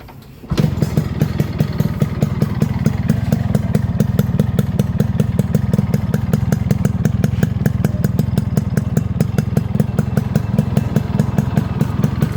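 A Yamaha RX 100 motorcycle starts up and settles into a steady, loud idle, its two-stroke engine beating in a fast, even rhythm close by with no talking.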